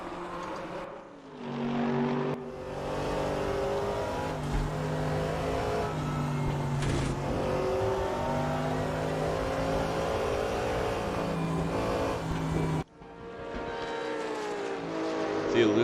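A race car pulls away from a pit stop at Mount Panorama, its engine note loud and near as it climbs and then holds a strained high whine, broken once by a sudden cut before another engine note rises.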